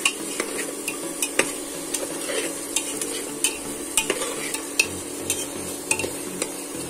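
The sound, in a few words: frying and stirring fried lentil dumplings in spice paste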